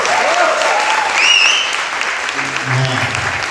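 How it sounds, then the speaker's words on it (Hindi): Applause from a church congregation at a Hindi-language sermon, a steady dense patter of clapping throughout with a faint voice rising over it and a low rumble near the end. "एक बार जोर से ताली बजा दीजिए सिर्फ यीशु के लिए"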